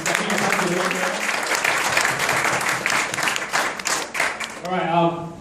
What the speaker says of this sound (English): Please give yourself a round of applause for stepping yourself to the room here.